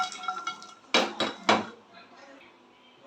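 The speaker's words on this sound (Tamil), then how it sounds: "இதையும் வந்து நம்ம லைட்டாக ரோஸ்ட் பண்ணிக்கலாம்" Shahi jeera (caraway) dry roasting in a pan, with a spatula clattering and knocking against the metal in a few sharp bursts that quieten toward the end.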